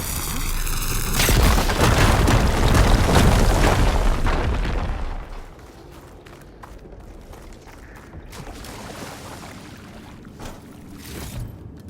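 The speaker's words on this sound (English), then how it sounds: "An explosion." A loud booming explosion in the video game Horizon Forbidden West, with a long rumbling tail that fades over several seconds into scattered crackles and debris sounds.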